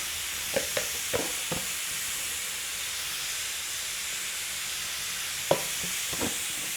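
Broiler chicken sautés in a pan with turmeric for a gravy, giving a faint steady hiss with a handful of soft spoon clicks near the start and again toward the end.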